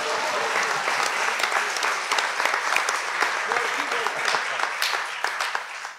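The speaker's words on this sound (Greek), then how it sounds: "Πιστεύετε ότι του αρκεί αυτό το χειροκρότημα?" Sustained audience applause fills a live event in Kaisariani, Greece: dense, steady clapping from a sizeable crowd, close and loud for the full six seconds.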